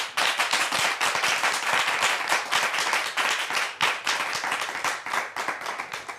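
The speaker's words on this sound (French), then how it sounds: "Est-ce qu'on peut le prouver une autre fois avec des applaudissements, mais bien nourris, s'il vous plaît?" A crowd claps and applauds vigorously and continuously, a dense, loud patter of many hands with no voices.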